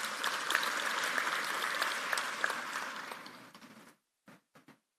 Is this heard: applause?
yes